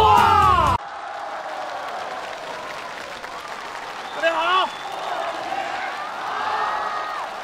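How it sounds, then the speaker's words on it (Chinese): Studio audience at a Beijing TV comedy sketch applauding and cheering, with sustained crowd noise and brief yells over the show's sound; a voice speaks at the start and a brief shout rises mid-clip. "这咋还有人鼓掌呢？ 这咋还有人尖叫呢？"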